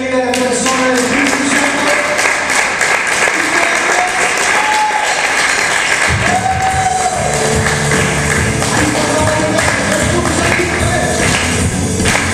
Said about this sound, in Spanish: fuerte aplauso de bienvenida a la persona de Cristo